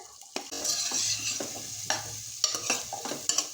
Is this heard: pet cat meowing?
no